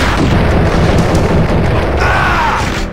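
Gunshots boom loudly and densely in the Max Payne video game, a sustained, heavy barrage of close shooting with a muddy, explosive texture.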